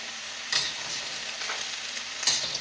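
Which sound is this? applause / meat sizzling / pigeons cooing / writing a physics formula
meat sizzling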